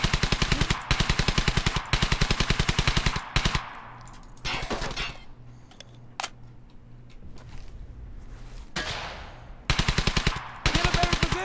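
Bursts of rapid machine gun fire from Brothers in Arms: Hell's Highway, a World War II shooter, come loud and close in several long rattling strings, with quieter battle noise and a low hum in the gaps between them.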